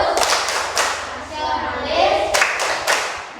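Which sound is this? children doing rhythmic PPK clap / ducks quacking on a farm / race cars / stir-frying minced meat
children doing rhythmic PPK clap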